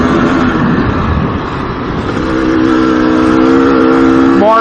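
A GasGas EC300 two-stroke dirt bike engine revs loud and close on an evening ride near Yerington, holding a buzzing drone that climbs in pitch toward the end.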